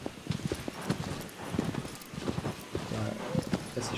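Horse hooves clip-clop in a steady walking rhythm through a forest in the video game Shadow of the Colossus, close and clear, with a voice speaking over parts of it.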